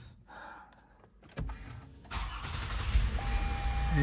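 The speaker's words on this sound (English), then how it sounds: "Let's go ahead and start the car and see if we have any codes in it." A 2016 car with an electronic parking brake is started after a rear brake pad replacement, giving a short starter whir and then a steady engine idle with a faint chime.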